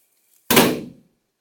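A single door slams shut in a house, one sharp, loud, close bang that breaks out of silence and fades away quickly with a short echo.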